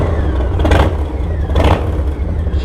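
Harley-Davidson M8 motorcycle engine revving, with two distinct throttle blips rising over a low, steady idle rumble, close and loud with no talking.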